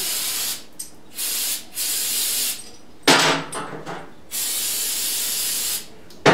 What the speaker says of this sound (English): O'Reilly's carb cleaner.